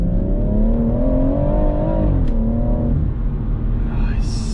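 A 2018 BMW M140i engine revs hard under full throttle from inside the car, a loud, rising droning tone that climbs steadily for about three seconds before easing off, with brief talk.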